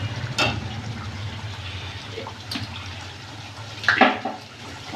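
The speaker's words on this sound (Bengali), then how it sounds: "এবার আমি এর মধ্যে জল দিয়ে দেবো" Water poured into a pan of cooked-down masala for chital fish kalia, with a few splashing, sizzling bursts over a steady low kitchen hum.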